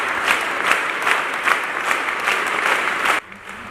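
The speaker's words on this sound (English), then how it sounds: "the sound of the applause had to remain above 80 decibels" Loud, dense applause from a large crowd, sustained steadily for about three seconds before cutting off abruptly.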